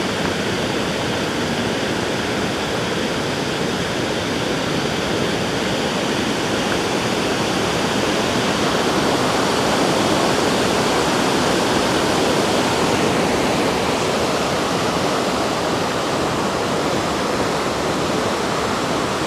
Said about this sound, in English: It's really loud with all of the water going over the dam here.